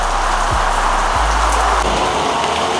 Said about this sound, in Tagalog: Just waiting for the rain to finish.